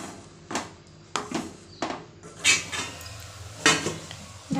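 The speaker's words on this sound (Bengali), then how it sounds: "ঢাকনা দিয়ে দিলাম" Metal lid clanks onto a cooking pot on the stove, several sharp clinks and clatters in a kitchen, close and moderately loud.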